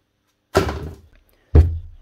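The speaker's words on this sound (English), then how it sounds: "I'll throw this in the bin." Two hard thunks sound about a second apart as old DeWalt tool parts are tossed into a bin. The impacts are close and sharp, and there is silence in between.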